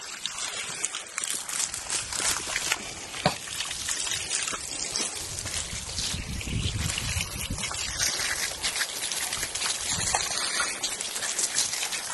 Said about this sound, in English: So we are going to do a thorough rinse.